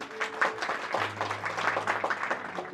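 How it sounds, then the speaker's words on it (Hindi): Audience applause welcoming guests at a gathering, scattered claps rising over a low hum and background voices, brief and moderately loud. "तो इन सब के स्वागत में जोरदार तालियां।"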